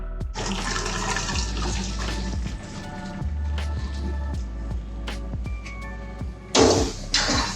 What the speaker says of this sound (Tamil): இப்போ இதை நம்ம ஸ்ட்ரெயினர்ல ஊற்றி எல்லாம் ஸ்ட்ரெயின் பண்ணிக்கலாம்.